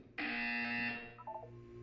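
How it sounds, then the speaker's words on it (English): A buzzer in the video game Portal 2 sounds one loud, steady electronic tone for under a second, then stops with a faint trailing blip. "When you hear the buzzer, look up at the ceiling."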